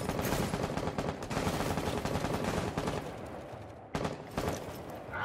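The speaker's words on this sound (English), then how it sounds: "I'm getting shot from above." Rapid automatic gunfire in the tactical shooter game Rainbow Six Siege, dense sustained bursts that fill nearly the whole stretch with one brief pause near the end, loud and close.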